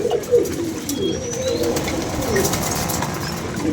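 Pigeons coo in soft, repeated throaty calls close by, with faint chirps, wing rustles and a few murmuring voices in the background.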